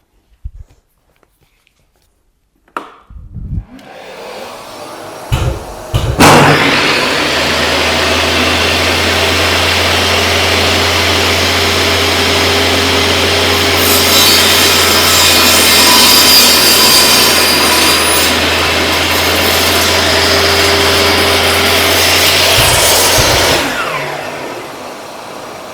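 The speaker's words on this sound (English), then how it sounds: "I can turn the vacuum on and make that cut." A table saw crosscuts timber with its dust vacuum running. A few clicks and thumps come first, then a loud, steady roaring whine fills about seventeen seconds before it cuts off.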